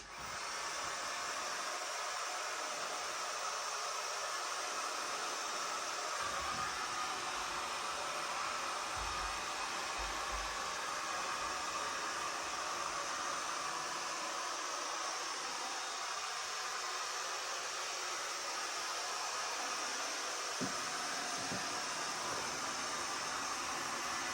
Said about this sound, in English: So I just use the low setting on my heat gun